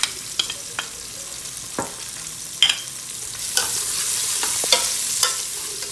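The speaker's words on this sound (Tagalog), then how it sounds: "Since init na itong mantika, start na ta. Bawang, sunod ang sibuyas" Garlic and onion hit hot oil in a pan, giving a soft, steady sizzle broken by repeated sharp scrapes and clacks of a stirring spoon, close and without speech.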